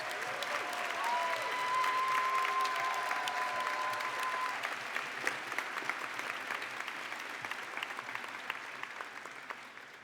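Steady applause from a commencement audience honoring Master of Laws graduates at a law school ceremony, dense clapping sustained throughout with a faint whistle-like tone early on.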